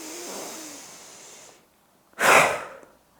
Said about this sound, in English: deep inhalation as you shrug your shoulders up around the ears, and then quite a forced exhalation out